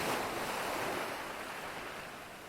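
Ocean waves of the Eastern Sea in an audio drama, a dense, steady wash of surf with some wind, continuous and fairly loud, no voices.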